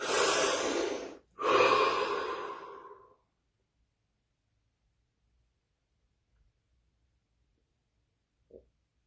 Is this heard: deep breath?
yes